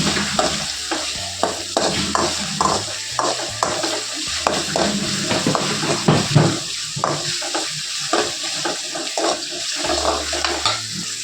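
Ingredients for a dal dumpling curry being sautéed in a pan, with continuous close sizzling broken by repeated spatula scrapes and clinks against the pan, no voices.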